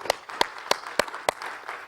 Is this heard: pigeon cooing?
no